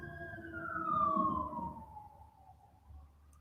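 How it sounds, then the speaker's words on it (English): A siren wails with a falling pitch sweep, fairly close at first and then fading slightly, over low traffic rumble. "That's a siren."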